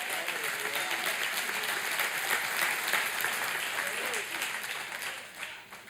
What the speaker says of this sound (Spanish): O de ese aplauso a Él.